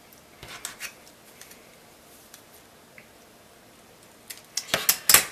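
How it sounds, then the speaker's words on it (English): Scissors cut monofilament line for framing artwork in clear acrylic, heard as a few crisp, close snips and clicks clustered toward the end after a long quiet stretch with faint handling ticks. "we want to cut 4 pieces of monofilament approximately 5 inches long"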